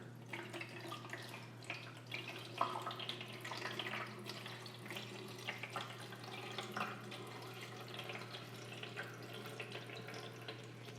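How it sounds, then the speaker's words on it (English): Four cups of cool water poured into a Vevor slushie machine's reservoir, a steady splashing trickle over a constant low electrical hum, heard up close with no talking. "Then we'll go in with 4 cups of water."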